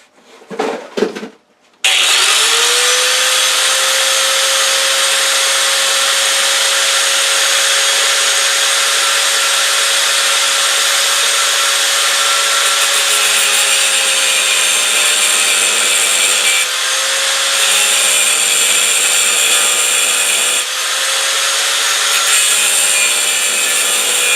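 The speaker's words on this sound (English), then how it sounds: "So let's go over to the vise and angle grinder and start grinding." Angle grinder grinding a bevel on an HSS blank clamped in a vise: a brief spin-up, then a loud sustained high whine that runs for over twenty seconds with slight dips in pitch under load.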